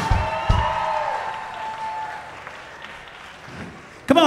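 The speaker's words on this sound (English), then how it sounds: "I actually wanted to have a round of applause for the guy who was dancing out here." Audience applause at an outdoor Musikfest stage for a dancer, rising briefly then settling into a steady mid-level patter, with band tones lingering underneath and a sharp loud burst near the end.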